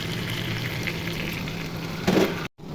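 Broiler chicken meat goes into a pan of sizzling fried spices, a steady close frying hiss with a brief louder burst of sizzle and stirring as the meat hits the oil, then a sudden dropout before the hiss resumes.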